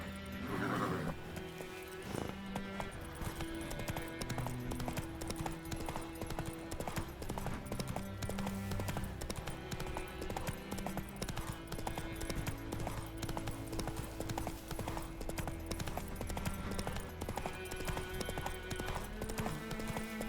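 Roach, Geralt's horse in the video game The Witcher 3, gallops on with a rapid, steady clip-clop of hooves and a brief whinny near the start, set over continuous orchestral game music with no voices.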